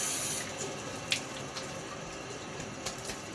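A bathroom tap runs steadily into a sink during a wet shave, a close, even rush of water with a few small splashes and drips on top and no speech.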